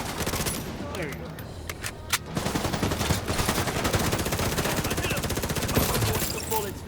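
Rapid automatic gunfire in The Division 2, loud and close, with dense bursts of shots running almost continuously and a few brief gaps early on.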